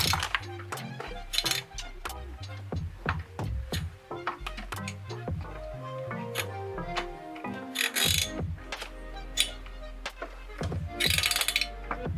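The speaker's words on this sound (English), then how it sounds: "Alright, tighten up the other two screws." A screwdriver tightens small screws into a gaming PC case during a build, giving rapid, close ratcheting clicks and metallic ticks in bursts that run through the whole stretch.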